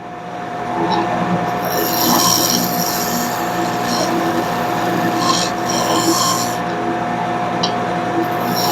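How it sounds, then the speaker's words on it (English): Wood lathe spinning stock while a gouge cuts a cove, a loud steady hum with scraping, hissing bursts from the tool edge, close up and without speech. "I can widen it and deepen it at the same time by pushing it further into the stock"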